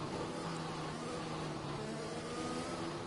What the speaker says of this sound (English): You could hear it diving on the throttle, trying to keep the speed up